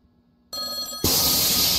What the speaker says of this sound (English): Phone says it's not connected to anything. You walk away and it starts ringing.